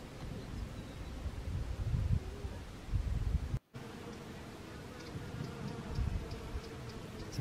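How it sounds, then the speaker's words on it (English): Honeybees with a few bumblebees hum steadily over a patch of flowering mint-family plants in Corfu, a soft continuous buzz with light wind rustle and a brief dropout midway. "some kind of mint family plant, he's just humming, mainly with honeybees. There's a few bumbles in there"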